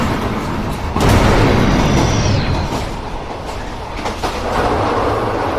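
A train rolls along rails with a loud, dense rumble and clatter, joined by a brief high metallic squeal partway through, then a few heavier thumps as the roar continues.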